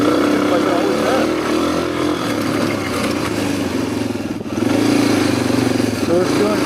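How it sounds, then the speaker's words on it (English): A Suzuki DRZ250 dirt bike engine runs steadily after an oil ejection, a loud continuous rumbling drone close by with a brief dip partway through before it resumes. "the engine is running just like it always has"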